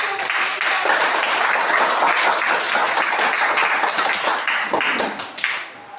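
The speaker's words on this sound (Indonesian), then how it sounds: "kita beri aplaus sekali lagi" A class of students applauds after group presentations, a loud dense burst of many hands clapping close by that holds steady for several seconds before thinning out at the end.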